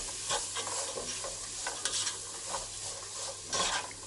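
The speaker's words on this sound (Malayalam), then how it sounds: "ഇതെല്ലാം ചേർത്ത് നന്നായി" Chopped green chilli and carrot sautéing in a pan for fried rice, a steady broadband sizzle with irregular scraping stir strokes throughout, close and fairly loud with no voices.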